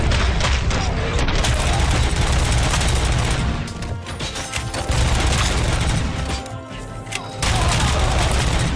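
Gunfire in the Robocop: Rogue City video game comes in dense, loud, sustained bursts of shots and booms with brief lulls between volleys. Speech is faint underneath.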